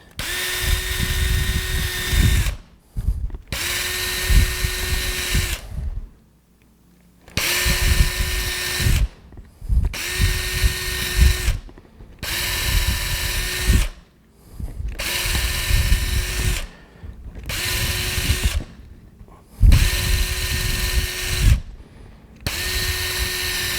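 A power drill whines in roughly ten steady bursts of about two seconds each, drilling holes in birch bark, separated by brief silences, loud and close.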